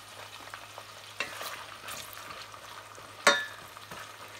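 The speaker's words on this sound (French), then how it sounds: "on va les laisser compoter à feu doux pendant au moins une quinzaine de minutes" Shallots stewing gently in a pan over low heat, a soft steady sizzle with occasional stirring scrapes and one sharper clatter near the end.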